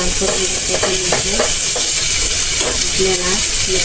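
Garlic browning in a pan for paneer masala, a loud continuous sizzle and hiss with occasional stirring scrapes, with some talk underneath.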